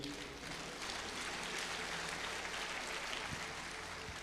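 Church congregation clapping in a large hall, a dense, steady wash of applause heard from a distance and fairly faint throughout.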